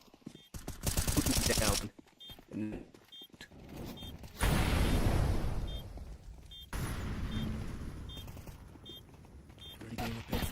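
Bursts of rapid gunfire from players spraying at an enemy in a Counter-Strike 2 match, several separate volleys under a caster's excited commentary.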